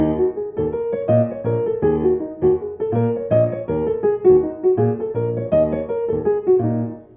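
A melodic instrument runs up and down a blues scale over a steady plucked bass pattern, notes evenly spaced in a lilting 5/4 meter.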